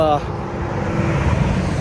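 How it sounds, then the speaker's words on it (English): Heavy trucks roar past on a highway along the Camino de Santiago near Astorga, a loud continuous rumble of traffic following a brief bit of speech. "as you can hear the big trucks going by."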